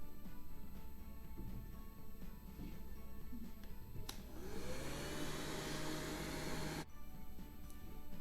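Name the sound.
hair dryer drying a watercolor painting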